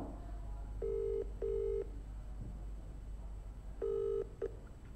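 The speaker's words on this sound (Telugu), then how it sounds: "ఒక్కసారి ఎంపీ గారితో మాట్లాడే ప్రయత్నం చేద్దాం నేను ఫోన్ చేస్తున్నాను" A phone call being placed to a member of parliament: four short, steady dialing tones sound in two pairs over a low background hum, with no voices.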